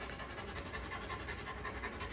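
A pure-bred hunting dog pants quickly and steadily, soft and close, with quiet background noise throughout.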